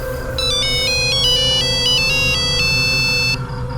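A phone ringtone plays loudly and continuously for several seconds: a bright, repeating electronic melody of stepped tones over a steady background hum, ending abruptly, with no talking.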